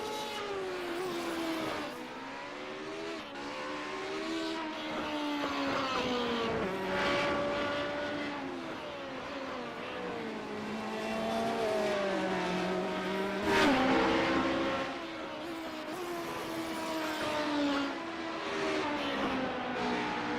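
Radical race car engines in a racing video game whine and rev continuously, pitches rising and falling as cars shift gears and pass, a busy layered roar throughout.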